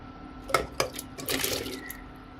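Water is poured into a cooking pot of washed cucumber pieces for a Mangalorean cucumber curry, with two sharp splashes followed by a short steady pour and a gurgling trickle, close up.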